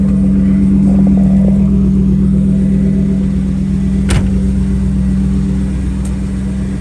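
A 1991 Chevy Camaro Z28 convertible engine idles with a steady low rumble, then revs briefly in a sharp burst before settling back to a steady drone.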